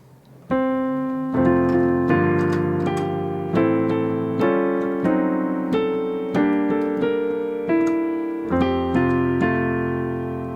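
Solo piano plays O Tannenbaum in a jazz style, a gentle holiday melody with full chords, each phrase struck then decaying, clear and close with no talking.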